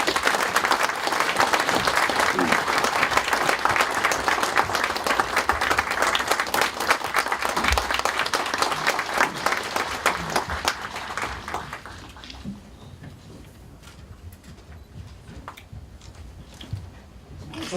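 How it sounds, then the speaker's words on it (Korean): An audience applauds as former UN Secretary-General Ban Ki-moon is welcomed to the podium at a lecture event, with dense, sustained clapping for about twelve seconds that thins and fades to a few scattered claps. "반기문 전 총장님을 뜨거운 박수로 연단으로 모시도록 하겠습니다"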